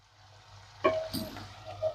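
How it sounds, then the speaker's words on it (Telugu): Chicken cooks in ginger garlic paste in a pan, giving a faint, soft sizzle interrupted by a brief clatter and a light scrape, with no talking. "ఇప్పుడు ఈ అల్లం వెల్లుల్లి పేస్ట్ లో కాసేపు చికెన్ ఉడకనివ్వాలి."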